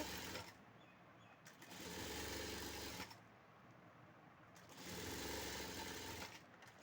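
Sewing machine stitching the piping on a lined blouse, running in two steady bursts of rapid mechanical whirring and clatter at close range, separated by a short pause.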